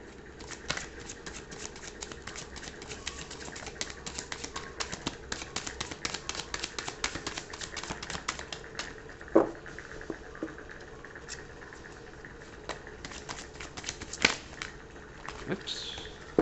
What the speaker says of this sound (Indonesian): Akan ambil satu kartu lagi.